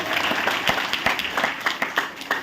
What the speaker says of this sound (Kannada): ಚಪ್ಪಾಳೆ ತಡಬೇಕು ಜೋರಾಗಿ